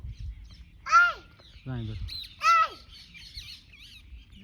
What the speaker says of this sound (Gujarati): હા પોપટ આવી ગયા પાછા